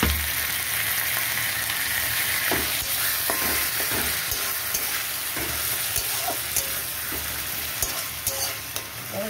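Tomato paste sizzles and fries with browned onions in a pan for an egg tadka, a steady broadband crackle with scattered stirring scrapes and taps throughout, close and fairly loud with no voices.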